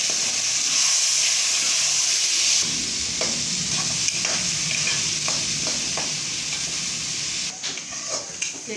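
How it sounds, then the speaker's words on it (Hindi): Pieces of petha pumpkin fry in a pan over medium heat. A continuous close sizzle carries repeated stirring scrapes and clinks throughout, and the hiss dips briefly near the end. "अब हम लोग इसको 1 मिनट के लिए फ्राई कर रहे हैं।"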